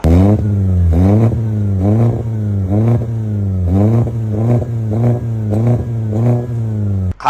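A Ford Fiesta fitted with an aftermarket exhaust revs repeatedly, about ten loud rising-and-falling engine pulls in a steady rhythm, close to the tailpipe with no talking.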